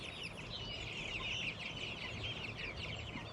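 Three-week-old Jumbo Cornish Cross meat chickens keep up a steady, dense chorus of soft clucks and peeps, the flock close by and continuous with no talking.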